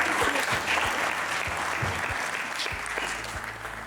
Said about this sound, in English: Let's hear it for Mr. Shiladitya Chaudhury